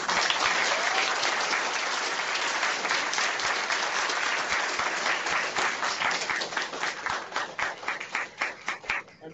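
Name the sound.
audience applause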